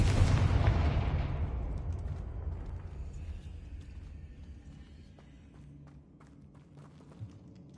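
The Confringo fire spell in Hogwarts Legacy goes off as a loud, close explosion at the start, then a long rumbling decay fades away while scattered footsteps and small clicks follow.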